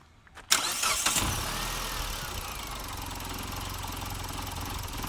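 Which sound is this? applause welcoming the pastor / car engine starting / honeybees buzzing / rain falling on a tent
car engine starting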